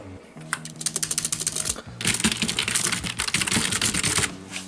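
Rapid clattering keystrokes on the computer keyboard of a 2008 iMac, loud and close, with a brief pause midway before a denser burst of typing over a low steady hum.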